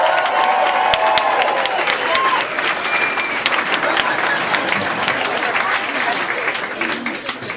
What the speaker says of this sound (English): just give them a nice big round of applause, make them feel welcome